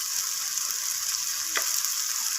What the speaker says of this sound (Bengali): সমস্ত কিছু মশলা আমি পেঁয়াজ আর টমেটোর সাথে এইভাবে ভালো করে কষিয়ে নিচ্ছি